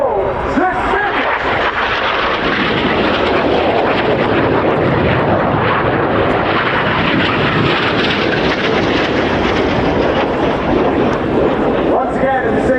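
Red Arrows jets flying the circuit manoeuvre at the RIAT airshow, a loud, continuous broadband roar of jet engines that stays steady throughout, with a public-address commentator talking over it.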